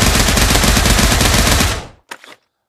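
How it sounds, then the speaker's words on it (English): A full-auto submachine gun burst in the VR shooter Pavlov Shack, a loud continuous stream of rapid shots lasting under two seconds, cut off abruptly and followed by a brief mechanical clack. "let's do the full auto so we can see what this recoil pattern looks like"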